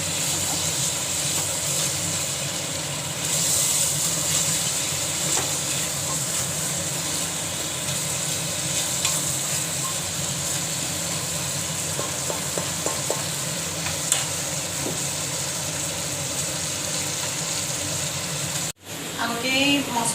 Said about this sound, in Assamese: মাংসখিনি ফ্ৰাই কৰি লৈছোঁ